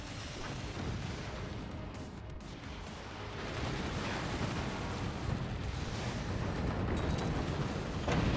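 Continuous distant weapons fire and booming impacts in the Forts artillery strategy game, a rumbling, crackling barrage that swells louder midway and keeps rolling with no talking.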